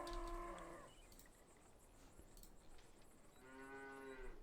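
Cattle on a small farm in a cosy video game lowing twice, one moo at the start and another at the end, with a quiet gap between them.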